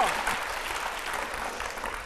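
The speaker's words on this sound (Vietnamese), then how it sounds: "một tràng pháo tay cho nhà trai nha" A studio audience at a Vietnamese television show claps in a steady, dense burst that stays even and moderately loud from start to finish.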